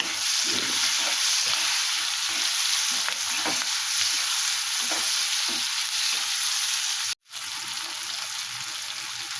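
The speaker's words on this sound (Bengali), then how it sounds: "তারপরে এই চিংড়ি মাছগুলো দিয়ে দিলাম।" Shrimp fry in a pan with salt, giving a dense, continuous close-up sizzle with faint stirring taps and a momentary dropout near the end.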